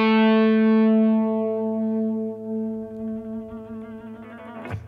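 A single sustained electric guitar note in a blues tone rings out with rich harmonics, slowly decaying as vibrato makes it waver, ending with a faint pick or handling noise, no talking.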